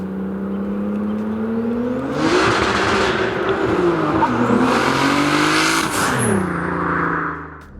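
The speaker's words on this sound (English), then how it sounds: "I got open wastegate, so it's really loud" A turbocharged 675 hp BMW E36 M3 with an open wastegate accelerates hard, its engine note rising loud and close through several gear pulls, with whooshing turbo noise and pitch dropping at shifts.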